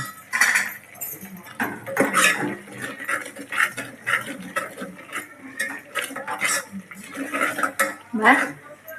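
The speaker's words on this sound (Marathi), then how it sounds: "तर त्यानंतर तिखट टाकूया आणि चांगलं मिक्स करून घेऊया." Misal spiced with chili powder being stirred in a pan, with repeated clinks and scrapes of a spoon against metal and soft patter throughout, moderately loud and close.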